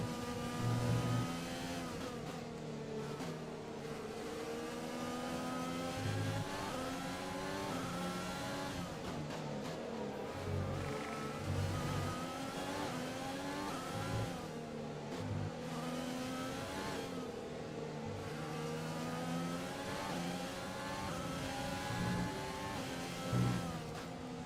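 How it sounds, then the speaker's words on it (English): Formula 1 race car engine in the F1 2020 video game at the British and Hungarian rounds, a continuous high revving whine rising and falling through gear changes over roughly 25 seconds, moderately quiet and without talk. "So I'm going to turn my engine down a little bit."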